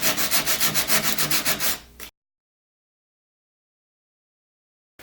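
Sandpaper rubbing quickly back and forth across the teeth of a big clock gear to knock off burrs, a close, even rasping rhythm of about a dozen strokes that stops abruptly, followed by silence.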